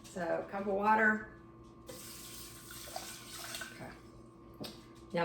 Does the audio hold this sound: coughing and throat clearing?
no